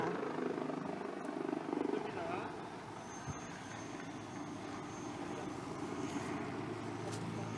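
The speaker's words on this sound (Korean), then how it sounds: "소방 헬기가 구조 작업을 완료하고 단국대학교 병원으로 출발하고 있습니다." A fire helicopter leaves after a rescue operation during a national emergency rescue drill, its steady rotor and engine roar holding at a distance throughout while an announcer speaks over it.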